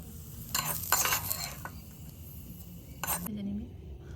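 Bursts of sizzling and scraping from stirring vegetables being fried in a small miniature-kitchen pan, with brief utensil clinks, over a quiet background.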